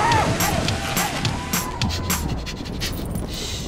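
A dog pants rapidly and steadily close by, with a few high whistle-like tones and brief voices in the background.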